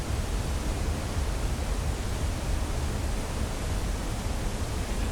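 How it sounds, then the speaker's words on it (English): The waterfall sound effect in the video game Blue Prince is a steady, even hiss of rushing water that holds unchanged from start to finish, with no voices over it. "We can get the nice waterfall sound effect"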